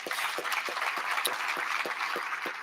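An audience applauds inductees at the National Soccer Hall of Fame induction ceremony, a steady, fairly faint patter of many hands with a few sharper claps standing out at a regular pace.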